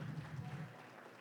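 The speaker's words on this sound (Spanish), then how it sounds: "lo recibimos con un fuerte aplauso" Audience applause at the presentation of an issue of the magazine Revista Folios: a short, soft burst of clapping that stays fairly even, then starts to fade.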